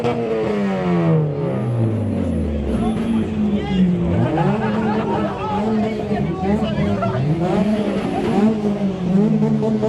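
JDM cars revving engines in a rev battle at a car show, repeated rising and falling engine revs from several cars at once, loud and close over crowd chatter and people talking nearby.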